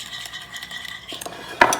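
Utensils toss Caesar salad ingredients in a bowl, giving a short run of light metallic clinks and scrapes that ends in a sharper clatter, close and quiet with no talking.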